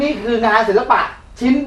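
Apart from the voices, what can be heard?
None of the usual background noises is heard.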